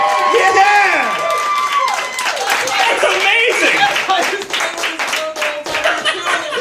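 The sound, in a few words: audience applause at comedy show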